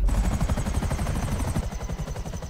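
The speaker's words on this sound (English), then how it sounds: "actually park my chopper" A helicopter in Grand Theft Auto V chops with fast, even rotor beats, loud and close, continuing steadily without talk.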